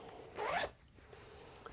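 Zipper on the front pocket of a handbag, a single quick close pull with a bright rasping burst lasting about a third of a second, followed by quiet room tone.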